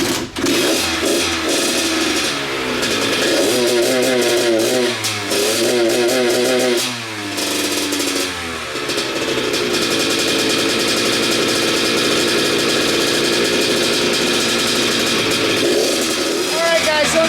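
Kawasaki KX85 two-stroke dirt bike engine running loud and close for the whole stretch, with revving surges early on that settle into a steady buzzing idle, and no one talking over it.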